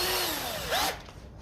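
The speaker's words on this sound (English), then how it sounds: "I think this drill here" A worn electric drill with bad bearings and struggling brushes whines steadily and up close, its pitch sagging then briefly rising before the motor cuts off and the sound fades.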